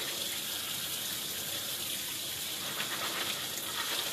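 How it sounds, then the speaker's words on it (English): Tap water runs steadily into a sink while soaked beans are rinsed, a constant even hiss with no pauses and no voices. "we are going to drain them and then rinse them off"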